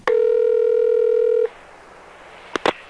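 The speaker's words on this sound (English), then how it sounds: "here are the Ballbusters and Sir Pete's Ticket, another one of those phone calls that I'm so fond of." A loud, steady telephone dial tone at the start of a prank phone call holds for about a second and a half, then stops, followed by a few quick dialing clicks.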